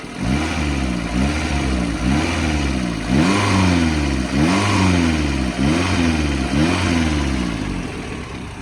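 A modified Maruti Zen with a swapped 1.3 engine revs repeatedly in short bursts through a modified exhaust, the throaty sound rising and falling in pitch, loud and close with no talking.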